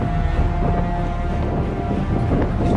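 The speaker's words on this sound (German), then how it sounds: "Es ist sehr, sehr windig, also Drohnenflug wird heute schwierig." Strong coastal wind of about 80 km/h at Fyns Hoved on Funen, Denmark, roaring steadily and loudly across the microphone as a dense, continuous rush with no pauses, no talk over it.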